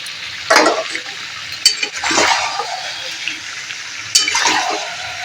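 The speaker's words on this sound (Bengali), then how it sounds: "মাংসটা দিয়ে আমি বেশ কিছুক্ষণ কষে নেবো যাতে মাংসটা ভালোভাবে ভাজা হয়ে যায়" Yogurt chicken is fried in a pan with onion, garlic, coriander powder and cumin powder. Bursts of sizzling and scraping come as it is stirred, with quieter crackling frying between the stirs, close and fairly loud.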